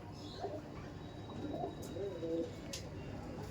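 A pair of Giribaj Kaldam pigeons coo softly and intermittently nearby over a steady background hum, with a few brief low calls.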